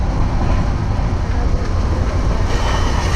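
Train noise while riding onboard during a college tour of Rajasthan, India: a steady, loud, broadband rumble of the moving carriage with no pauses, and no voices heard.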